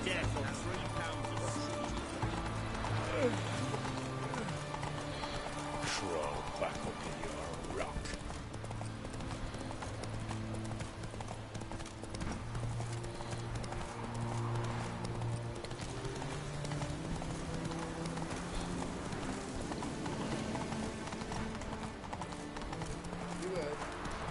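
A horse gallops in The Witcher 3 video game, steady rhythmic hoofbeats clip-clopping throughout against a music bed, with someone talking over it at times.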